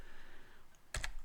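A computer keyboard gives two quick, close keystroke clicks after a quiet stretch, typing a command on a Linux machine.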